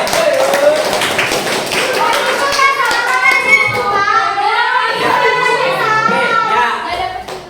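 Students in a classroom clapping their hands on the teacher's request, a dense, steady patter of many hands with children's voices and chatter mixing in over it.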